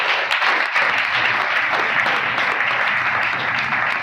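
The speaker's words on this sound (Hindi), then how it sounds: "जोरदार तालियां बजाएं खुदा की जलाल की" Applause from a standing congregation at a church healing service, dense and steady clapping that stays loud and even with no pauses, heard on its own without speech.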